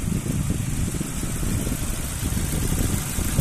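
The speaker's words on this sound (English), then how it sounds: "engine sound nice and smooth" A silver 2006 Ford Focus 1.6 LX estate with a petrol engine and automatic gearbox idles steadily up close, a smooth continuous low hum with a light even vibration.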